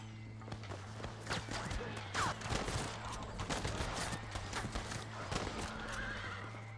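A horse whinnies amid clopping hooves and scattered sharp bangs like gunfire, over a steady low hum, in the video game Red Dead Redemption; fairly busy.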